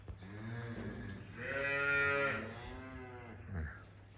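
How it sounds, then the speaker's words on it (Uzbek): A cow lets out a long, clear moo on a cattle farm with young calves nearby, followed by a softer, shorter lowing call. Both are close and carry over a quiet background. "Mana shu sigirlar, mana bo'zaylar."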